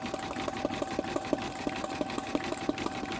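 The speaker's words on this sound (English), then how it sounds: "machine embroidery" An embroidery machine stitches an appliqué onto balsam wood, giving a steady mechanical hum with a rapid, regular ticking of needle strokes throughout, close and continuous.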